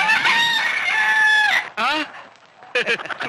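A rooster crows loudly with a long, drawn-out call, followed by a couple of shorter clucking bursts after a brief pause.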